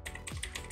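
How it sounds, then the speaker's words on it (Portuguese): A few quick keystrokes on a computer keyboard while typing into a search bar, soft clicky taps in a brief burst, close and quiet. "aí aqui na barra de pesquisa você vai digitar site, dois pontos,"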